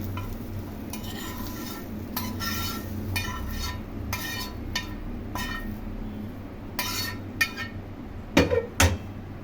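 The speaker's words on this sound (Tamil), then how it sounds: "இதை பாருங்கள், நான் கொட்டுறேன் பாருங்கள். ஒரு பவுலில் அப்படியே வெங்காயத்தை நமக்கு போட்ட வேண்டியதான்." Fried onions poured from a pan into a bowl, a steady scraping and tumbling rustle with light spoon and metal clinks, sharper clinks near the end, no voices.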